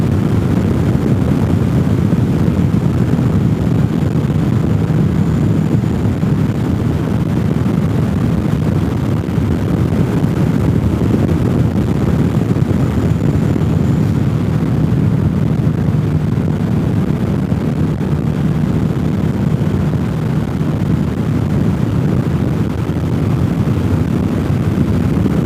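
Loud, constant rumble of a motorcycle engine on the road mixed with heavy wind roar, steady throughout with no pauses.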